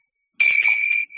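Tibetan prayer bells, used in meditation, ring out in one bright, clear strike. The near, sustained metallic tone starts abruptly, rings for most of a second, then is cut short.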